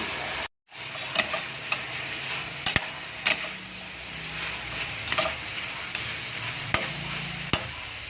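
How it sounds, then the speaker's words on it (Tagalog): Shredded cabbage being sautéed in a pan as a mixed vegetable dish cooks, a steady close sizzle broken by a short silence near the start, then regular scrapes and taps of stirring. "At ang ating repolyo guys, lalaglag ko na."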